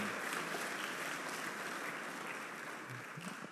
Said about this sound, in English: I'm not sure you needed to applaud that